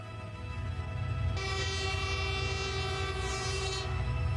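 Passing train locomotive, a steady loud rumble with a sustained horn-like tonal drone throughout, close and continuous, with no talk.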